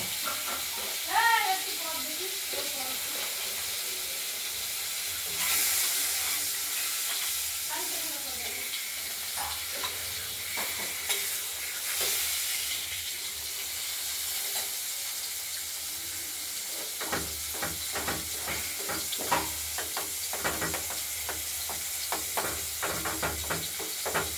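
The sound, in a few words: potatoes frying in oil for Katla fish curry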